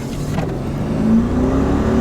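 A 1990s Mercedes-Benz E430 V8 (W210) pulls away in first gear on a slight downhill, its engine note rising steadily and continuously close to the microphone, with no voices over it.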